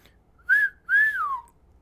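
A person whistles two short rising-and-falling tones, a brief pair with a small gap, close and clear, imitating a phone notification chime.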